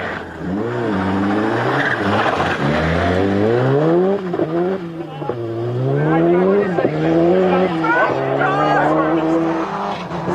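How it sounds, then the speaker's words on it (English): A brand new Ford Sierra Sapphire Cosworth rally car at full effort on a British Open Rally stage, its engine loud and close, revving up and down in continuous sweeping surges for the whole stretch. "But this is Wilson underway and already losing precious seconds in the brand new Sapphire Cosworth"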